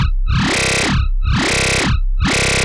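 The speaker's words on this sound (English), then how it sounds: "Starting to sound very, very squishy." A heavy FM8-synthesized growl bass throbbing in three slow, repeating wobbles, loud and up front, with sweeping squelchy tone shifts and no voices.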